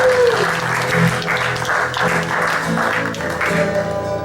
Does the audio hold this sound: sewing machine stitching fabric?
no